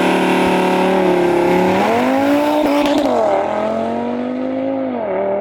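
An Audi RS3 with a stage 2 tune launching hard and spinning its tires, the engine roaring loud and steady as the revs climb and dip, with a tonal tire squeal over it.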